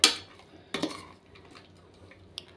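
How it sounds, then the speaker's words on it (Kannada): Chicken curry masala being fried and stirred in a pan, with a loud metallic clank at the start, another scrape-and-clink partway through and a sharp tap near the end over a low, quiet background. "ಈಗ ಇದು ಹಸಿ ವಾಸನೆ ಹೋಗೋವರೆಗೂ ಸ್ವಲ್ಪ ಚೆನ್ನಾಗಿ ಫ್ರೈ ಆಗಲಿ."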